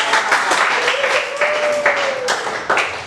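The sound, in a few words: class applauding a student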